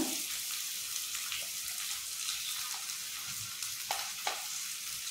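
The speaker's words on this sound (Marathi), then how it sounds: "कांदा लालसर होईपर्यंत परतायचा।" Onion sautéing in a hot pan, a steady close sizzle and frying hiss with a few soft stirring scrapes, no voices, for a Maharashtrian fresh cashew vegetable dish.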